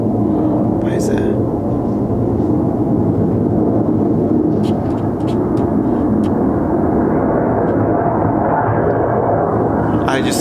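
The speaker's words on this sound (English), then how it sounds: "I just saw the afterburn of a jet." Jet aircraft roaring overhead on afterburner, a loud sustained rumbling blast that holds for about ten seconds, with faint crackles and brief ticks on top.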